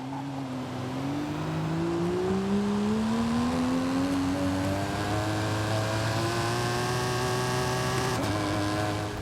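A car in Forza Horizon 5 launches from a start and accelerates hard, its engine note climbing steadily in pitch through one long pull with a brief shift near the end, loud and close with no talk.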